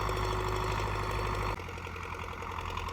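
A tractor engine runs steadily at close range during field cultivation with a BOMET cultivator, a loud continuous diesel throb whose tone drops slightly partway through.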